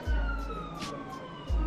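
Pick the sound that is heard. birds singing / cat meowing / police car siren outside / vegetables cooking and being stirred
police car siren outside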